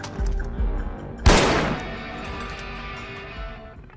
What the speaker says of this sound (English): they can shoot him in the head, leaving Ajay's mission unfulfilled